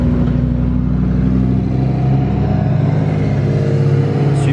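A Lamborghini Huracan Evo passes close by with a loud, sustained engine note, a dense steady roar with layered harmonics holding throughout, no talk over it.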